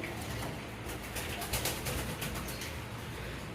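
Rajshahi Giribaz fancy racer pigeons coo softly at close range, with low repeated cooing under steady background noise and no speech.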